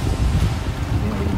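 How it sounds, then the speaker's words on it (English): Strong wind roaring across a microphone on a pike-fishing boat in the Netherlands, a loud, steady low buffeting rush with no other sound standing out. "wind is blowing like a maniac"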